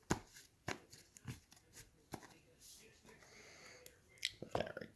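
A deck of Yu-Gi-Oh cards is cut and handled up close, giving a few sharp papery snaps and soft shuffling rustles at an uneven pace, fairly quiet overall.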